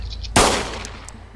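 A single loud gunshot in the survival game DayZ cracks sharply and close, then trails off in a long reverberating decay with no voices.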